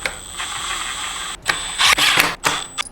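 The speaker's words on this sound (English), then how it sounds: "I'm gonna go ahead and just snug these up. The Torx underneath." A ratchet clicks in short bursts, tightening Torx button head bolts on an E-Ride Pro long seat. The clicks are close and sharp over a faint steady hum.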